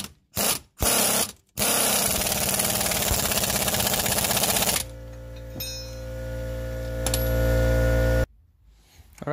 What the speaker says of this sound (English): Then we're gonna impact this nut right here.